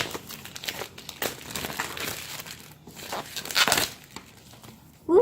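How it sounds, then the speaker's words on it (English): Clear plastic wrapping being torn and peeled off a new notebook, a busy run of close crinkling and crackling with a few louder crunches, heard alone. "It's wrapped in a clear plastic, so I'm gonna have to get through that."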